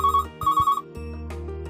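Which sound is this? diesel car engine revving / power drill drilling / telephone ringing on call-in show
telephone ringing on call-in show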